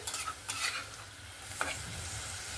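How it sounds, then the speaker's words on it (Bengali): Mourola fish and potato curry (bati chochchori) bubbling in a pan with a little added water, a steady soft simmering hiss with a few brief scraping stirs, close and fairly quiet, no voices. "তরকারিটাও সুন্দরভাবে ফুটতে শুরু করেছে"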